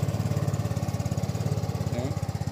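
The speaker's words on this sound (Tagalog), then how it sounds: "Start ko na yung engine." A motorcycle engine idles nearby with a steady, rapid thumping pulse, running evenly throughout at a moderate level.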